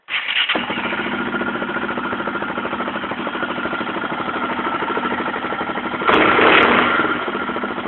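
A quad bike engine idles with a steady, throbbing note through an FMF exhaust, close and loud, briefly revving up near the end before settling back.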